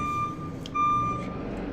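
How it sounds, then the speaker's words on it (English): Reversing beeps from a car backing up some distance away, a thin high tone sounding in a couple of spaced pulses over low outdoor ambience. "That's just in case you needed to know that car way down there was backing up"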